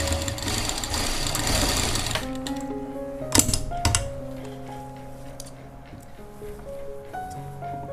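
A sewing machine runs in a steady, close, loud burst while stitching a jacket (koti) for a frock or kurti, then stops, leaving quieter handling clicks and rustles.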